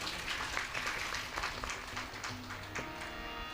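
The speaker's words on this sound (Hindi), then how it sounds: "अपने लिए एक बार ताली बजा लो आप लोग" Audience clapping at a Hindu religious discourse on Navratri, a brief burst of moderate hand claps from the gathered crowd, fairly close and steady before fading.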